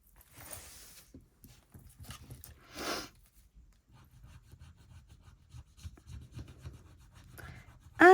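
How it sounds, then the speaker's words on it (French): A scratch card being scratched, heard as quiet, intermittent rubbing and scraping strokes, close by and faint, with a few louder scrapes and no talking. "c'est la carte numéro 7 à gratter"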